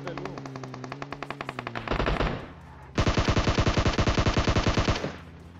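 Automatic rifle fire in the mobile battle royale game PUBG Mobile comes as rapid bursts, one long rattling burst, a short pause, then another loud sustained burst that cuts off, heard close and alone.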